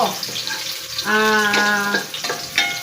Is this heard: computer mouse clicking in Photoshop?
no